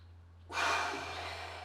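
A single big forceful exhale during an exercise workout, a loud breathy rush of air that starts abruptly and fades slowly, heard alone over a steady low hum.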